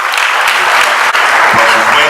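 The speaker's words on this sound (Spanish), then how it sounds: "entiendo que este aplauso es precisamente para los compañeros de todas las organizaciones" Applause from a political audience in Plottier fills the space, a dense, steady wash of many hands clapping with a brief dip midway and a few voices mixed in.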